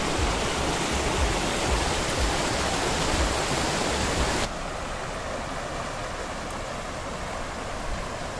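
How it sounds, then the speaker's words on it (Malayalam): A stream at Thonikkadavu near Balussery, Kozhikode, rushes in a loud, steady hiss of flowing water that drops suddenly to a quieter, still continuous flow about halfway through; no one speaks. "വെള്ളത്തിൻ്റെ സൗണ്ട് ഉണ്ടാവും"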